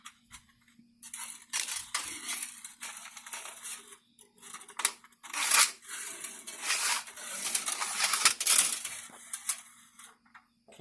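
Fish tape is fed through square tubing, making intermittent scraping, rattling and crinkling sounds in short bursts with quiet pauses between them and a faint steady hum beneath, with no talking.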